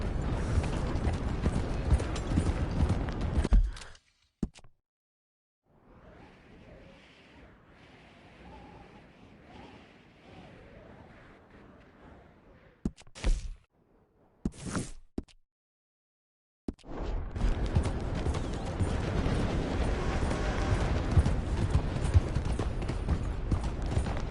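Horses walking in Red Dead Redemption 2: loud stretches of hoof clip-clop and movement noise at the start and end, separated by a quieter, softer passage and a near-silent gap with a few brief sharp sounds.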